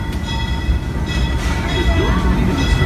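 The Disneyland Railroad train in Anaheim rolls along its rails with a steady, loud rumble and faint clattering, while a voice talks over the continuous ride noise.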